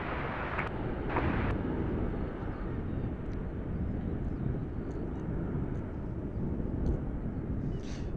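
An Airbus A380 airliner at Amsterdam airport produces a steady, loud broadband engine roar that holds throughout with no pauses, accompanied by gusts of wind across the microphone.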